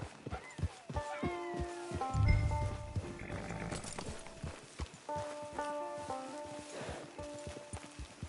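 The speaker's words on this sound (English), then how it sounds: "Get your horse." Horse hooves clip-clop in a steady rhythmic gait in the video game Red Dead Redemption Online, with background music and a brief snorting burst midway.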